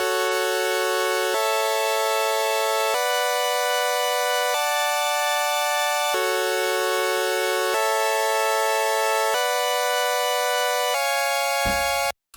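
A simple hardstyle tune built from rearranged chords, played on a bright, buzzy synth lead as sustained chords that change every second or so, loud and alone, ending with a brief low hit.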